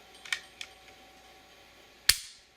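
A cocked H&K 9mm pistol is dry-fired, giving one sharp, loud hammer click near the end after two fainter handling clicks, close up with no talk.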